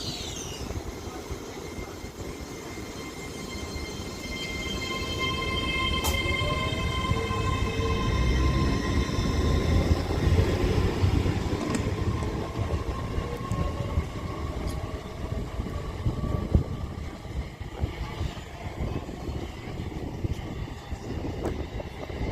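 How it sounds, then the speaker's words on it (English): A Class 807 electric train departs Runcorn station on the West Coast Main Line, heading for Liverpool. A rising motor whine and rumble build as it pulls away, with faint clanks and a distant high tone, and no one talks. "807007 departs Runcorn now with the 11:44 anti-West Coast service to Liverpool"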